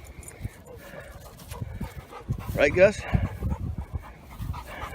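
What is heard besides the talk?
dog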